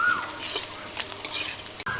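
Chopped garlic and dried chilli frying in hot mustard oil in a kadai, with a steady close sizzle and stirring scrapes throughout and a brief break near the end.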